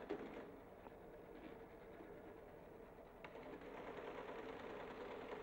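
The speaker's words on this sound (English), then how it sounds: "the tape will run into the flexowriter, and the printing of the codes on the tape now takes place" A CSIRAC flexowriter prints codes read from punched tape, a faint, steady mechanical clatter with light repeated ticks, heard alone.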